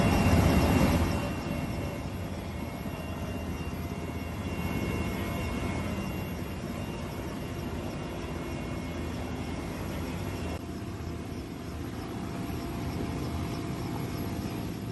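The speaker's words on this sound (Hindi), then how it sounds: "इन तस्वीरों को ज़रा ध्यान से देखिए जहां पर भारतीय वायुसेना के हेलीकॉप्टरों ने खास तौर पर जाकर लोगों की जान बचाई।" An Indian Air Force helicopter on a flood rescue mission drones continuously with a steady engine roar, loud at first and then holding level throughout.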